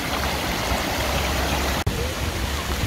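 Outdoor public fountains, switched on for the season, pour water in a steady, dense rushing splash that stays even throughout, with one sudden brief dropout near the end.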